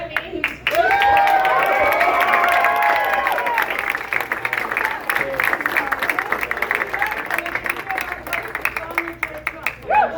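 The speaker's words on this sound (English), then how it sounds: "let's give a round of applause to the best chairwoman ever, Debbie" A crowd at a Women for Trump event in Gorham, Maine, applauds the chairwoman with cheers and whoops, loud at first, then thinning into scattered clapping with voices over it.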